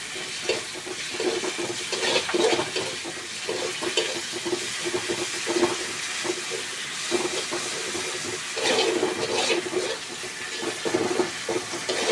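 Water poured into a pan of simmering Bengali tengra fish curry, a steady splashing hiss with stirring and sizzling beneath, continuous and close for about twelve seconds.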